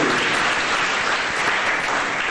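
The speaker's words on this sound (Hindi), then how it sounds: "आप तालियां बजाएंगे तो ही बताओ" Dense, continuous audience applause fills a Hindi spiritual talk. It is loud and close, a steady wash of many hands clapping with no gaps.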